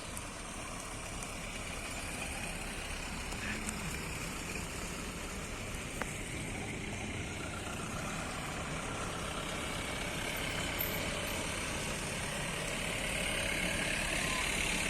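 Engines of a Scorpio and a Bolero SUV idle in an outdoor wedding procession, a steady broadband rumble and hum running throughout with faint background voices.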